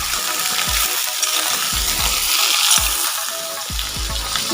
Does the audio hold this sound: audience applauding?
no